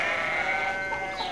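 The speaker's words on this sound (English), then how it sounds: "He has 5 goats." Goats on a farm give a loud, close, sustained wavering bleat that lasts the whole moment, with no talking.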